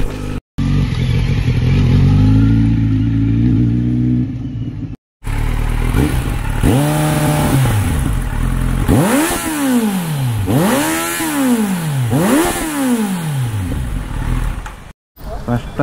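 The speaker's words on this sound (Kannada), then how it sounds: "First time 950cc bike ಬಿಡ್ತಿದ್ದಾಳೆ." A 950cc superbike on a first ride through heavy traffic, its engine revving up and down in repeated surges, loud and close, with voices nearby.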